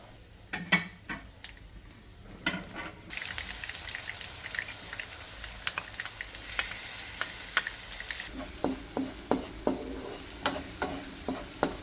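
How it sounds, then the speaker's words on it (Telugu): Chili paste with onion and garlic frying in a pan over a tempering of mustard seeds, cumin and asafoetida for a spinach dish. A steady close hiss of frying rises after a few seconds, with sharp scraping and clicking stir strokes throughout. "కారం బాగా వేగనివ్వాలి మూడు నిమిషాలు"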